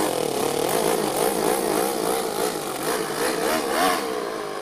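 Small Toyan FS-L200 petrol engine in an RC Ford F450 truck, running continuously with a buzzy, wavering drone that rises and dips slightly in pitch throughout, close and steady.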